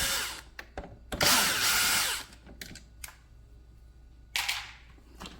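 Power drill backing screws out of a Cuisinart K-cup coffee maker during a repair, several short close whirring bursts with pauses and small clicks between.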